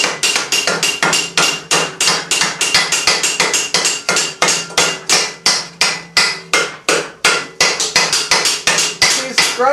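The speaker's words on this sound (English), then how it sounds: "He's scrunching and compressing the metal." Metal is struck in a rapid, steady series of loud, close hammer blows, roughly three per second, while a steel sallet helmet is raised and its metal compressed.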